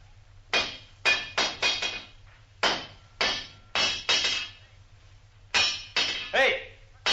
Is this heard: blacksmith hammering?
yes